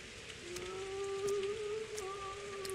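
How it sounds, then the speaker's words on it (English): Steady rain falls in the video game Pathologic 2, a dense hiss with faint droplet taps and a sustained tonal hum running beneath it, with no voices. "Maybe you should go inside instead of standing in the rain."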